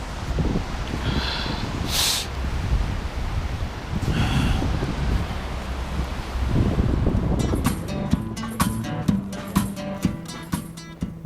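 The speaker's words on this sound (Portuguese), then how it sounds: "Só que tem um puta vento." Strong, cold wind in Russia at around freezing roars steadily against the microphone for about seven seconds. It then gives way to lighter, clicking and tonal sounds.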